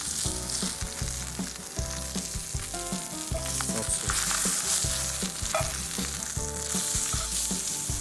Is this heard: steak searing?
yes